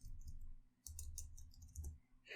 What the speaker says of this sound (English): It's a ton of typing, and we're just gonna have to push through it.